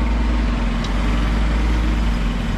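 A small motor on a vacuum suction lifter used for laying tiles hums loud and steady, a constant low drone with no breaks.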